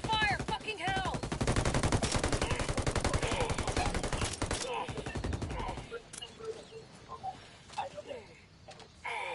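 Rapid automatic gunfire from a Ghost Recon Wildlands PvP firefight on PS4, loud sustained bursts for about six seconds before thinning to sparse distant shots, with voices mixed in.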